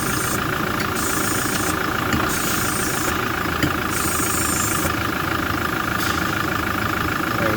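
A Toyota Hilux GUN126 with an AC60F automatic gearbox runs steadily at idle while being shifted through the gears, a continuous close mechanical drone with a faint regular high whine pulsing on and off.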